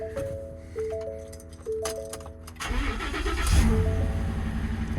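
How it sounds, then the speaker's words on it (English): A 2020 Ford truck with 190,000 miles cranks with a steady whirring starter, then catches and fires into a louder, rough idle with a rise in revs, all close to the microphone. "Let's see if this 2020 Ford will crank up."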